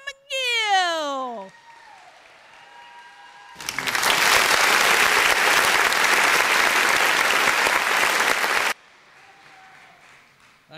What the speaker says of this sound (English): So please join me in cheering on our co-chair, John McGill.